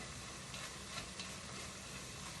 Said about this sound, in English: Then you want to stir that garlic in there